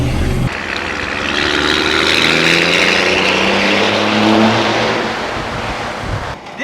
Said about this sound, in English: That's what I love about a turbo diesel engine